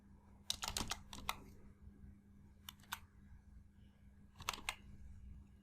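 A computer keyboard is typed on in short bursts of quick, crisp key clicks, separated by pauses, recorded close and fairly quiet with no talking.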